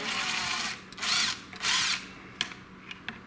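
A power screwdriver backs long screws out of a Jackson JS1X Dinky Minion electric guitar in three whirring bursts, close and fairly loud, followed by a few sharp clicks.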